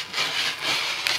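Fabric being cut along the hem of a t-shirt with a new rotary cutter, heard as close, loud rasping strokes in three rough passes, with no voices.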